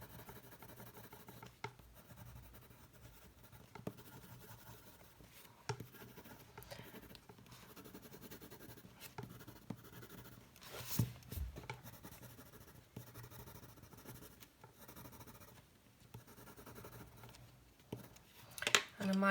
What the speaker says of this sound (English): Just going to put a bit more white in here just to burnish it a bit more.